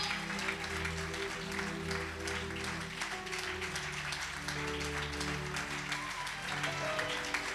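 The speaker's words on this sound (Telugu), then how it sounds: "గట్టిగా చప్పట్లు కొడుతూ ప్రభు నామాన్ని మహిమ పరుద్దాం" A church congregation claps loudly and rhythmically during a sermon service, steady hand claps over sustained music and voices filling the hall.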